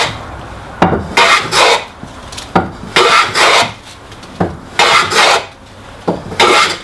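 A wooden trying plane shaves a board in repeated long strokes, about five rasping passes, each a loud, close swish with a knock at its start and short pauses between.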